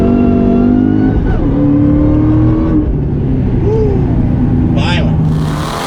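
A 2003-04 Ford Cobra with an Eaton supercharger and a 2-valve engine accelerates hard, giving a loud, sustained engine roar with rising and shifting tones and supercharger whine, heard close up from inside the car.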